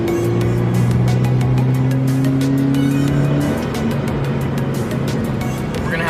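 A Subaru BRZ fitted with a new intake accelerates hard, its engine a loud, steady rising drone heard from inside the car that holds strong through the whole stretch with no talk.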